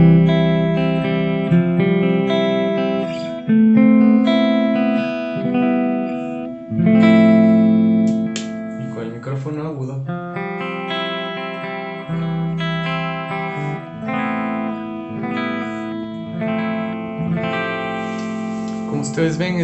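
Clean electric guitar through a Headrush unit plays a phrase of chords and single notes with some effects shimmer, moderately loud and close, with no voice over it.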